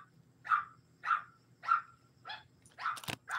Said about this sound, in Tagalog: Maingay kasi yung aso ko.